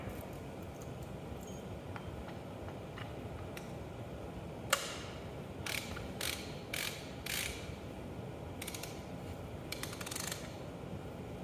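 A ratchet with a 3.5-inch socket turns hub bolts on a Case 310 dozer transmission, giving faint quick clicking runs of the pawl in short bursts over a quiet workshop background.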